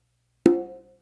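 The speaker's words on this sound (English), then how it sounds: "and then an open on the conga." A single open tone struck by hand on a conga, a sharp slap-like attack ringing into a clear sustained pitch that fades over about half a second, alone and close.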